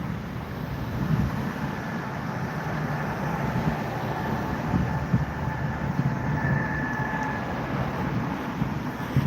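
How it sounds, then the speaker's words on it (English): Steady traffic rumble from passing electric or hybrid cars near Niagara Falls, a continuous broadband wash with faint tonal whines drifting through, moderately loud and unbroken, with no voices. "You hear these electric cars go by, right?"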